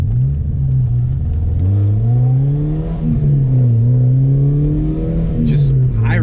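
A 1993 Subaru Vivio with a 660cc engine revs high while driving, its engine tone rising and falling in pitch and heard close and loud throughout, with someone talking over it.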